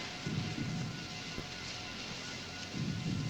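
Steady rain hisses throughout, with low rumbles of thunder swelling near the start and again at the end.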